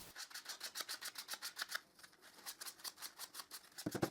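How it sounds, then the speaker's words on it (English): Steady rhythmic rubbing strokes of a fine-grit foam sanding block on the edges of a wooden star, back and forth, with a short pause midway and a small clatter at the end. "I sand all the edges with a very fine grit foam sanding block"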